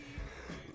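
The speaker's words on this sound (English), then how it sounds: "I'm coughing" A single short, muffled cough or throat clear sounds close to the microphone, a brief rough burst with a smaller follow-up, quiet overall.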